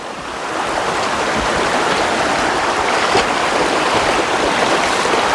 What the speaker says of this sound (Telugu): వాటర్ చూడండి ఎలా వస్తున్నాయో